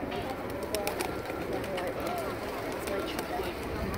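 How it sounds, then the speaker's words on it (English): A flock of pigeons in a park in Guadalajara coos steadily close by, with a broad murmur of wings, footsteps and faint crowd babble underneath. "There are a bunch of pigeons."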